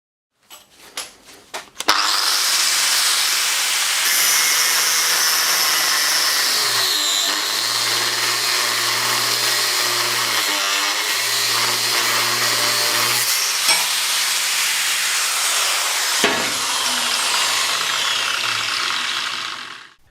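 A repaired Bosch angle grinder, rescued from a scrapyard, clicks a few times, then whines up to a loud, steady high-pitched run with brief dips in speed before spinning down at the end.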